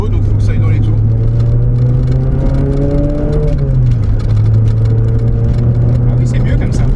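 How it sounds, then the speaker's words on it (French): A Peugeot 206 RC's naturally aspirated engine drones steadily in second gear from inside the cabin, its pitch rising slightly, then dipping, then holding. The engine is loud and continuous, with occasional talk over it. "on est en deuxième là, et c'est un moteur Atmo, donc faut que ça aille dans les tours"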